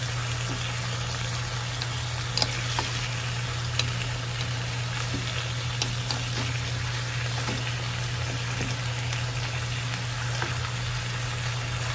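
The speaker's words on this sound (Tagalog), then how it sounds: "Saka natin lagyan ng patis at pakuluan natin sa patis" Pineapple chicken simmers with fish sauce in a pan, giving a steady, soft bubbling sizzle under a constant low hum, with occasional light stirring clicks and taps and no talking.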